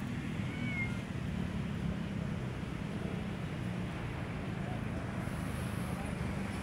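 A cat meows near a jogging path along Manila Bay in the morning, its calls set against steady wind rumble and outdoor noise, with a voice talking nearby.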